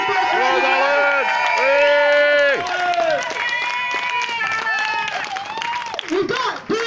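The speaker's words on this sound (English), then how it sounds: "So I'd like to big round of applause for everyone." A rally crowd in Manchester gives a big round of applause, clapping mixed with loud cheering, whoops and shouting voices that fill the whole clip close and dense.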